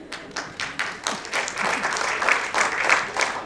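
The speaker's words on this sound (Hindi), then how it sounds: "माँ कसम यहाँ जितने उत्तर भारतीय तरह ताली बजा के बताइए" An award show audience bursts into applause, a dense wash of clapping that builds and stays steady for a few seconds.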